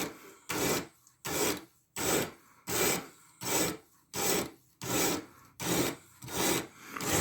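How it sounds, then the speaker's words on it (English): A 14C28N steel knife blade, a Sitivien ST147, is pushed across a sharpening stone in nine steady, evenly spaced rasping strokes, each a short burst of gritty scraping with quiet gaps between. "This is probably going to be one of the hardest blades to sharpen."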